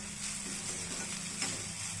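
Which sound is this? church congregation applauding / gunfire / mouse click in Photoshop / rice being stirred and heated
rice being stirred and heated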